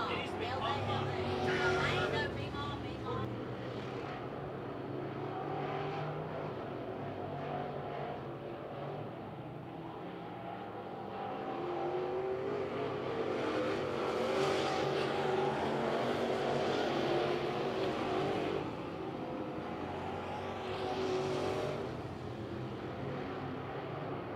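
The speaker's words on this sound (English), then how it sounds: "Robinson leads Altiers and Nickerson as they put 5 laps onto the board" Modified race cars lap Lavonia Speedway in a feature race, engines roaring continuously and swelling as the pack passes, with a commentator talking over the din.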